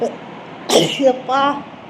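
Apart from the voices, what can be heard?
sneeze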